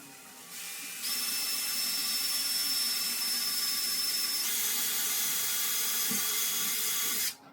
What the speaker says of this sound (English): So now I could go ahead and drill those holes.